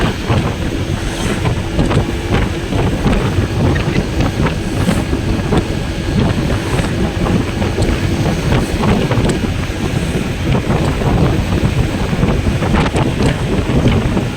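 Steady, loud wind buffeting the microphone with a constant low roar, plus a faint rush of water in the background.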